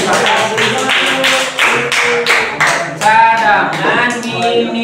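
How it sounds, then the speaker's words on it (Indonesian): Students in an Indonesian classroom clap for a classmate, a handful of sharp, separate claps in an uneven rhythm, close by and loud, mixed with children's voices and singing-like calls. "Tepuk tangan buat Siti."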